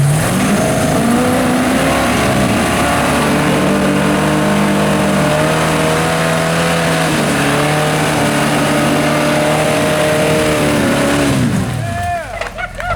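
A car engine revs hard and accelerates with a one wheel peel on a straight, loud and close for most of the stretch before cutting off near the end, with voices speaking over it.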